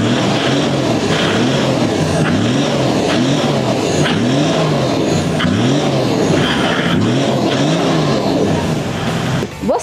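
A car engine revs repeatedly close by, loud rising-and-falling roars in a steady rhythm of about two per second, continuous throughout.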